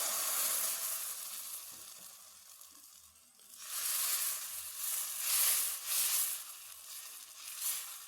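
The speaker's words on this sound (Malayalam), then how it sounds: "ഇനി മാവ് ഒഴിച്ചു കൊടുക്കാം." Wheat flour appam batter sizzles in a hot pan: a soft hiss at first, then a louder, crackling fry that swells after a few seconds and keeps bubbling steadily, close up and with no talking.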